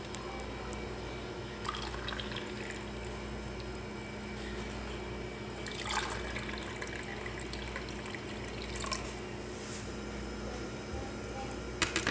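Homemade grape juice, strained through a sieve to leave the skins behind, is poured from a jug for serving, a soft continuous liquid trickle with faint drips, fairly quiet throughout.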